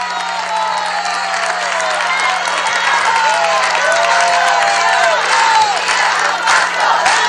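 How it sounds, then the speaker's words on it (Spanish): Loud crowd at a women's congress closing event with President Maduro, applauding and cheering energetically, with many overlapping shouts and whoops over continuous clapping and a steady hum underneath. "Un aplauso a Gladys Requena."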